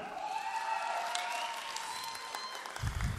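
A wedding audience applauds a guest named Nurkasym during a party game, a steady wash of clapping over faint background music.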